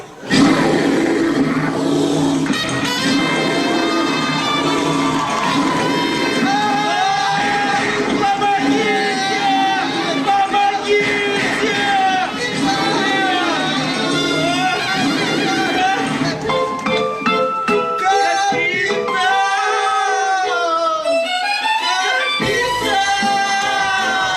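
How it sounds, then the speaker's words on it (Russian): A loud roar, meant as a polar bear, rises from a student stage skit at a university spring show, set against continuous music and crowd noise for the whole stretch. "Там белый медведь!"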